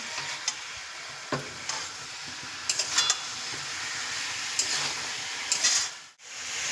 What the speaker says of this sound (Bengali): এগুলো হালকা করে ভাজা হয়ে গেছে এগুলোকে এবার তুলে নেব